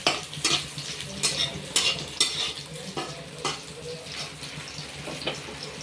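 Ingredients for mint chutney being sautéed in a pan, with a low sizzle under frequent sharp spatula scrapes and clinks, up close and in an uneven rhythm.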